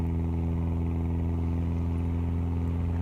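Steady, rumbling BMW M4 engine idling in the game Euro Truck Simulator 2, with a deep, even hum, close and continuous, no voices.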